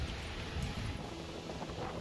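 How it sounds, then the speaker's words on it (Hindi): Strong wind gusting outdoors in a hillside village as weather turns before rain, a steady broadband rush with low rumbling buffets on the microphone, no voices. "बड़ी तेज हवाएं चलने लगी हैं"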